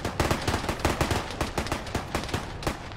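Rapid automatic gunfire in the Arma military game plays as a dense, loud rattle of overlapping shots, with sharp bursts repeating almost continuously through the whole stretch.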